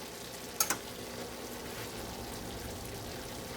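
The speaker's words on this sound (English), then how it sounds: "A proper paella must have a crisp bottom. And I can hear it sizzling." Paella rice sizzles and crisps on the bottom of a large pan over a burner, a quiet, steady frying hiss with a couple of brief sharp clinks near the start.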